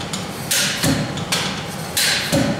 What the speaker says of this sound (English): after each drop, move the hammer around on the surface slightly